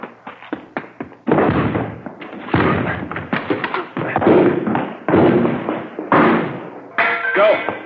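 Police break in doors in an old radio drama, with a series of heavy thumps, crashes and splintering impacts, loud and close, interspersed with short pauses and a brief metallic rattle at the end.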